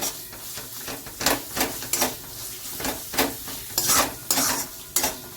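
Spice paste frying in hot oil for eggplant bharta, with a steady close sizzle and regular scraping stir strokes of a spatula in the pan, about one every half second to second.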